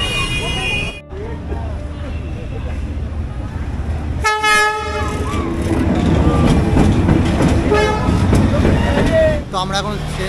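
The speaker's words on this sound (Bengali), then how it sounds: "তো এখন কিন্তু ট্রেন আসবে, ওই জন্য এখানটা পুরো ভিড় হয়ে গেছে।" A train rolls through the narrow lane of Hanoi Train Street, its horn blaring in several loud blasts amid the rumble and clatter of cars passing close by, with crowd chatter underneath.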